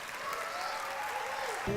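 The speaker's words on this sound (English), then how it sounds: "Another big round of applause" Applause from the audience at a children's school concert, a steady patter of many hands clapping at moderate distance, holding even before a slight swell at the end.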